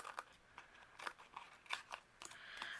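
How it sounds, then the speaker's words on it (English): Scissors trimming the excess off card paper during cardmaking, a handful of quiet, crisp snips spaced irregularly, close and faint with soft paper rustles between cuts. "We're going to use our scissors."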